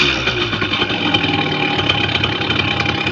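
A Simson S51 moped engine fitted with an idle speed stabilizer ticks over at idle, a steady close rattling putter with an even rhythm and no voices.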